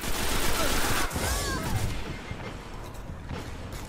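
Rapid auto rifle gunfire in a Destiny Crucible match, a dense burst of shots in the first second or so, then fading into scattered quieter game noise and clatter.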